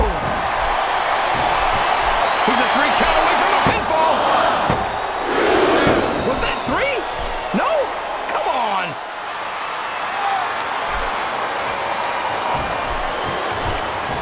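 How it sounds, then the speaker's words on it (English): A video-game arena crowd in WWE SmackDown vs Raw 2007 roars steadily throughout, with brief slams and shouts rising out of the din while commentators talk over it. "I think these superstars are getting some feedback from the crowd, JR"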